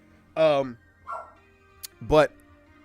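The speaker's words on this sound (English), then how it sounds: "Sorry, that's the dog barking." A dog barks from inside the room, two short harmonic barks about two seconds apart, loud and close, with a brief murmur of talk between them.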